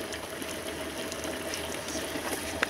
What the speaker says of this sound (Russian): Сейчас выйдет лишний воздух